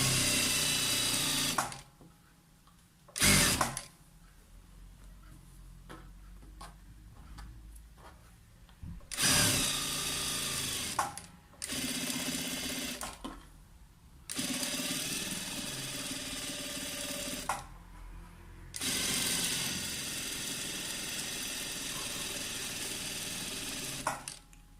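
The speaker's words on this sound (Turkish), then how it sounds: "normal düz dikiş diker gibi" A home sewing machine with a bias binding attachment runs straight stitching along the neckline of a tank top, motor whirring loud and steady in several long bursts broken by short pauses, with no talking.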